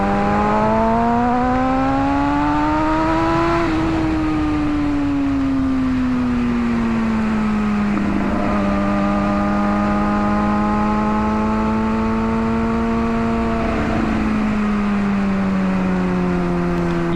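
A 2007 Kawasaki Ninja ZX6R motorcycle at loud, sustained speed, its engine whine holding steady with a couple of pitch dips and climbs as it shifts and pulls again, with wind noise throughout.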